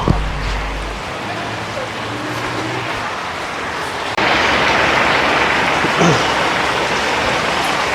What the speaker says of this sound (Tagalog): inabutan nga tayo ng ulan dito sa labas